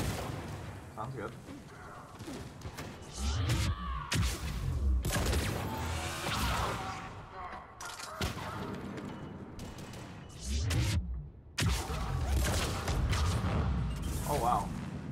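Gunfire in the video game Mass Effect 3 rattles in repeated bursts and crashes, dense and loud throughout, with people talking over the shooting.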